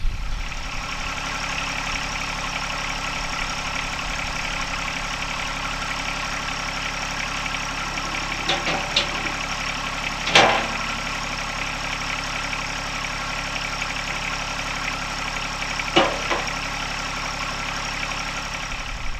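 A John Deere 1025R compact tractor engine idles steadily at close range, a constant low rumble with a couple of brief clanks.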